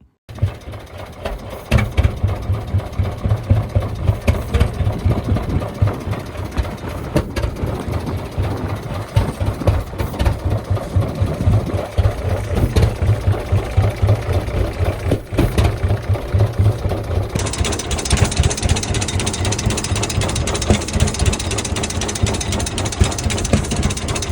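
A heavy old Allis-Chalmers crawler tractor engine idles steadily and loudly close by, with a low, chugging rhythm that continues throughout.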